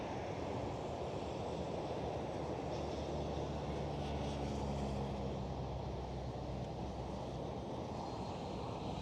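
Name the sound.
KLM Boeing 737 taxiing at Schiphol airport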